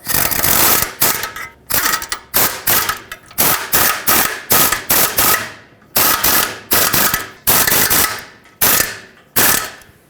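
A ratchet snugs up the catalytic converter bolts underneath a 2013–2020 Nissan Pathfinder. Loud, close bursts of rapid clicking repeat again and again, each burst trailing off before the next swing.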